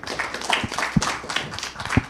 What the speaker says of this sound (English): applause to Aman